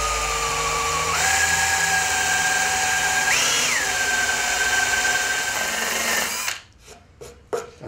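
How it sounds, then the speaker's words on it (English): A power drill fitted with a wider bit bores a hole through pallet wood at slow speed, giving a steady, close, loud whine for about six seconds with one brief pitch rise before it cuts off into quieter handling noises. "I'm going to make a hole just like this with a bit of a wider drill bit."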